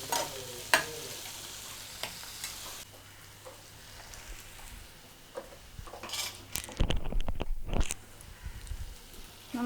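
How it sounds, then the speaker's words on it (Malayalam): Onion, okra and tomato are stirred in a pan over medium heat, giving a soft sizzle under repeated scraping and clattering strokes of a spoon, with louder stirring bursts toward the end. "ഇത് നന്നായിട്ടൊന്ന് വഴറ്റുക. തീ മീഡിയം ഫ്ലെയിമിലേക്ക് ഇട്ട് കൊടുക്കുക."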